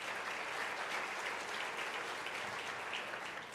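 A large audience at a U.S.–Africa Leaders Summit gives sustained applause, a steady even roar of clapping that holds at a fairly low level throughout with no speech over it.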